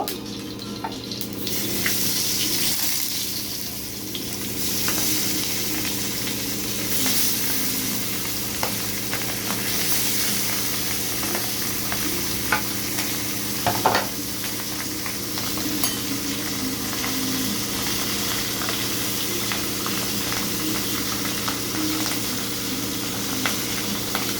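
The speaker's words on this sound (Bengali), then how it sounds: "এখন মাছগুলোকে ভালো করে ভেজে নেব।" Fish fries in a hot pan with a continuous even sizzle throughout, close and steady, with occasional small pops and faint clinks.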